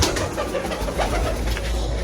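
Pigeons coo low and steadily in a soft, continuous murmur close by, with no one speaking, from a nesting pair that has been laying eggs.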